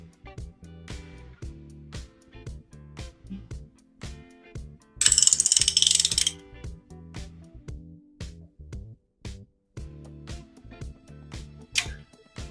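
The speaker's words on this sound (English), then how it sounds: "So I'm going to rotate the crankshaft 360 degrees." A ratchet wrench turns an LS engine crankshaft through a full revolution, giving close, repeated rhythmic clicking strokes with short pauses between pulls and a brief burst of louder rattling partway through.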